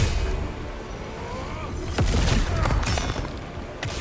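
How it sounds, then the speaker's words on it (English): Explosion in a dark fantasy action video game, a loud booming blast with crackling debris and sharp impacts layered over a dense game soundscape, no talking. "That explosion hit both of us."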